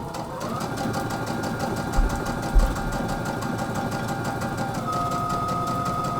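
A sewing machine stitching doll fabric runs steadily and close, its fast rhythmic needle chatter continuous throughout, with two brief soft thumps near the start.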